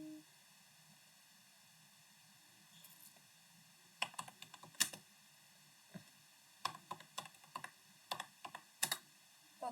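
Computer keyboard keys clicking as code is typed, with irregular bursts of quick, close keystrokes after a quiet start, some keys tapped sharply.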